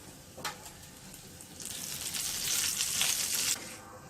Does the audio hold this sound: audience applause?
no